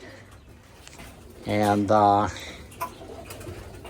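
Pigeons in a loft give a brief, soft coo against a quiet background, and a voice speaks a single short word.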